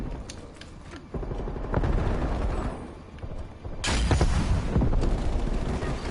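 A frag grenade goes off in Call of Duty Black Ops zombies mode, a loud booming blast landing near four seconds amid a dense wash of game gunfire and effects, with an earlier thump around one second.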